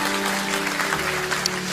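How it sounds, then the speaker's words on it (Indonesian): A church congregation applauds during a sermon, a steady wash of clapping held at an even level for under two seconds, with a faint sustained tone underneath. "Yuk kasih tepuk tangan dulu yang luar biasa."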